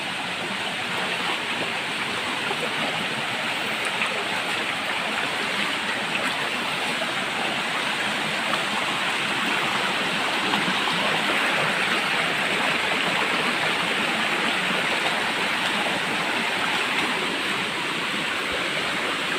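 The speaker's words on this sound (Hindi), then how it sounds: "कैसे पानी गिर रहा है।" Waterfall in a Goa forest, pouring steadily in a dense, continuous roar of falling water that stays loud and unbroken throughout, with no voices over it.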